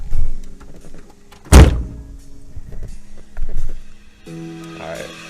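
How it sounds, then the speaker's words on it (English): A car door on a Mazda Miata thumps shut once, loud and close, followed by quieter interior rattles and a faint music tone near the end. "let me go and close the door"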